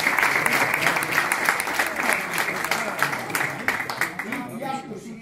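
An audience at a gala dinner in Sarsina applauds a local cheese producer, dense sustained clapping from a seated crowd that tapers toward the end, with voices mixed in.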